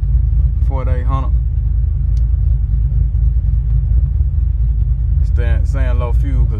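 Car engine held at high revs around 4800 RPM, a loud, steady low rumble that fills the whole stretch while a person speaks briefly over it at the start and again near the end.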